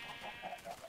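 Baby chicken in the game Minecraft clucking softly, a string of four or five short chirpy peeps in an even rhythm, close and quiet with a faint steady hiss behind.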